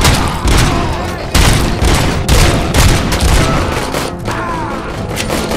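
Loud, close gunfire from RoboCop: Rogue City, with several sharp shots and rapid bursts following one another over a few seconds, with echoing booms and mechanical clatter between them.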